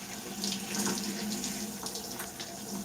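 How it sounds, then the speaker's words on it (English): Shower water runs steadily over curly hair being worked through by hand, a constant close hiss of flowing water with slight splashy fluctuations. "I'm working the water in my hair"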